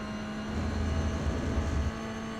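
A Toyota GR86 race car engine in the iRacing simulation drones steadily as it accelerates at Monza, a continuous tonal hum that swells briefly.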